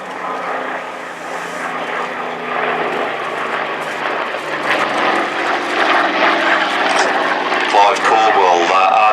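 A Curtiss P-40C fighter's propeller engine drones at the Flying Legends 2018 airshow, a steady, fairly loud roar under a commentator's voice over the public address.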